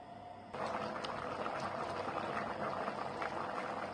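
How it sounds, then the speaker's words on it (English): A pot of chicken soup with cream comes back to a steady boil, its dense bubbling and simmering hiss starting abruptly and continuing close and even throughout. "bring this back to the boil and we just want to boil it for 5 minutes"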